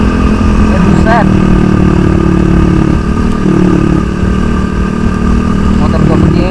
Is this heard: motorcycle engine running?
yes